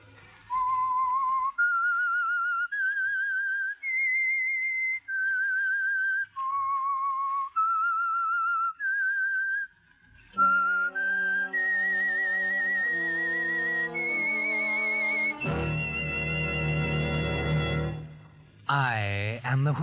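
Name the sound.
The Whistler radio show theme whistling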